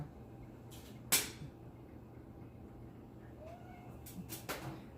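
Young kitten giving a couple of short, faint meows indoors, alone with no talk over it.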